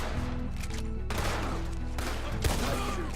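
Repeated gunfire rings out in Red Dead Redemption 2 during a night shootout, sharp bursts over a dense, continuous layer of game noise and music, loud and close throughout.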